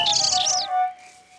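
A cartoon bird in Fireman Sam lets out a short, loud, bright chirp that fades quickly, with no one speaking.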